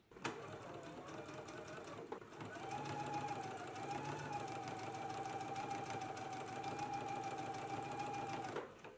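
Sewing machine running long basting stitches on a Simplicity 9952 garment: a brief start and pause, then a close, steady mechanical whir and rhythmic needle chatter sustained for about six seconds before stopping.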